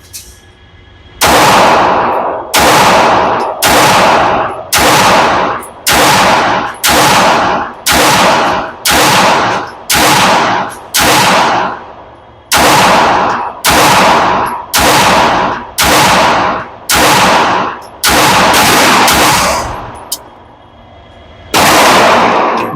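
A Fusion Firearm XP Pro Limited Edition PVD bronze pistol is fired at an outdoor range. About twenty loud, close shots ring out in quick, steady succession, each with a short echo, and there is a brief pause in the middle of the string.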